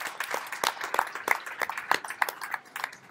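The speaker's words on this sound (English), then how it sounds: "Let's give him a big round of applause" Scattered, fairly faint clapping from a small audience at a SecKC security meetup, welcoming a speaker. Individual claps stay distinct, with no steady roar.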